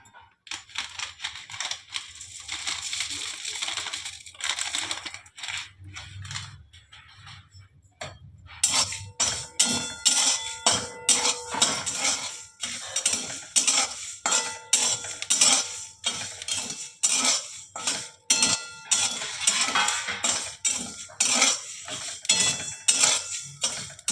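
Cumin, fennel and Kashmiri chili powder dry roasting in a dry pan for mango pickle oil, with a metal spoon repeatedly scraping and clinking against the pan in an irregular, close, fairly loud rhythm, quieter at first then busier.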